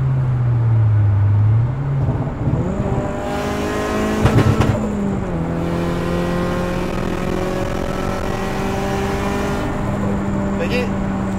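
A Nissan S13 engine after software tuning revs up and holds a steady rising drone, with a gear-like pitch shift early on, close and continuous with some background voices.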